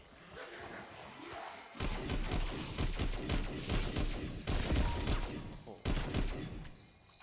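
Heavy automatic gunfire from Call of Duty Cold War zombies mode, loud dense bursts with sharp thuds that stop and restart, after a quieter opening stretch.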